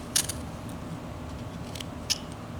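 A knife whittles a flat-plane wooden figure, giving a few short, crisp scraping cuts near the start and end against a quiet room background, close and faint.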